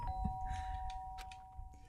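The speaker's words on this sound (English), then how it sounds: "sharp sound of the doorbell pierced my sleepy haze and pulled me back to the real world" A doorbell in the Danganronpa video game rings with a sustained electronic tone, close and clear, while faint clicks and background noise sit underneath.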